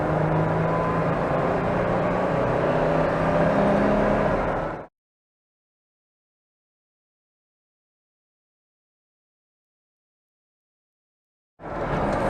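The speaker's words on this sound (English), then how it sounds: "Wide open throttle. 3rd gear. Wide open." A modified Jeep Wrangler JK pulls hard at wide-open throttle in third gear, its engine roaring loud and close for about five seconds before cutting to silence, with a brief return of engine noise at the very end.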